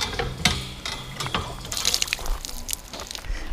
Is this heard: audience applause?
no